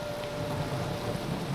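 Minecraft rain pours in a dense, constant rush with a low rumbling undertone, heard alone without any voices.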